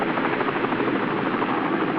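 A helicopter flies overhead, its rotor thumping in a steady, loud, unbroken drone with no voices over it.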